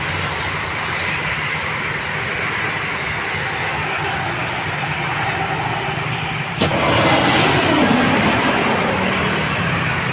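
An airplane passes low over the runway close by, a loud, continuous broadband engine roar that swells further in its final seconds, with no talk over it.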